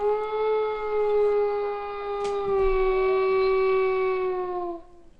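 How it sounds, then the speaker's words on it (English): A lone wolf howls at the moon, one long sustained wavering cry with rich harmonics that holds steady for about five seconds before fading out, clear and fairly loud with no talking. "Yes, the lonely cry of the wolf"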